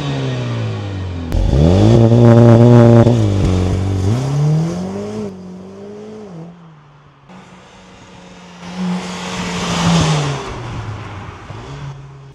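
A 2024 Mercedes-AMG A45 S accelerates hard on a road test, its engine revving up loudly through rising pitch, easing off, then surging again with rushing road and wind noise.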